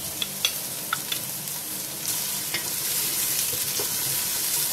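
Finely chopped onions, three normal-sized, drop into five to six tablespoons of hot oil for dhaba-style dal mash, with a few early utensil taps before a loud, steady sizzle rises and holds, close and without speech.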